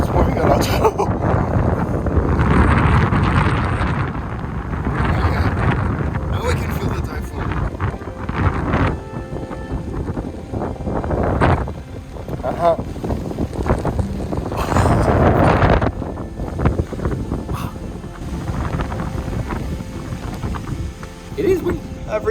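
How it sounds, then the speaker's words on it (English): Strong gusty typhoon wind on a small mountaintop in Taiwan buffets the microphone in surging roars, rising and falling, with a person talking intermittently over the noise. "It is windy. I've reached the top of my little mountain."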